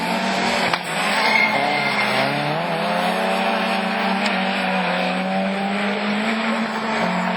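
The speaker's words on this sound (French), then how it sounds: "Henri, sa toute nouvelle Citroën C4 F2000 qui emmène la Honda" Citroën C4 F2000 and Honda Civic rallycross cars race at Lavaré in the 2012 French championship, engines roaring loudly and continuously with rising and falling revs, close by and without talk.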